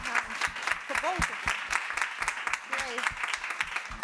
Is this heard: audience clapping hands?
yes